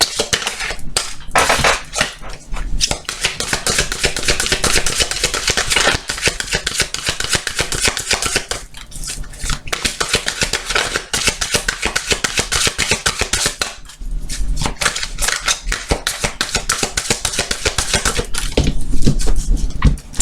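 A deck of tarot cards is shuffled and cut by hand, giving a continuous dry crackling and riffling, close and fairly loud, with brief pauses between bursts.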